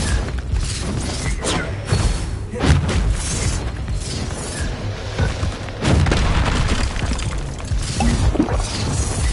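Blasting spell explosions in the Hogwarts Legacy video game, a series of loud booming bursts and crashes at intervals amid dense battle noise, with shouted voices mixed in.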